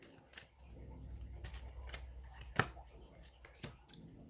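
Tarot cards being shuffled and drawn during a love reading, a soft papery rustle with a few crisp snaps and slaps as cards are laid down, close and quiet with faint background noise.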